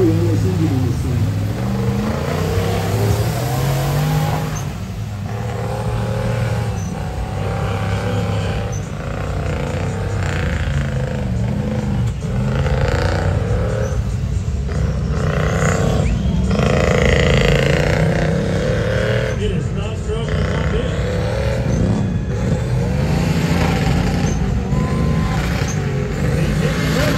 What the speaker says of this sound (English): He said he's got a brand new LS engine in this thing.